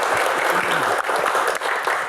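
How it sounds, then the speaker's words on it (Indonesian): An audience at a comedy Q&A event applauding, a loud and continuous wash of many hands clapping that dips for a moment twice and then carries on. "tepuk tangan sekali lagi"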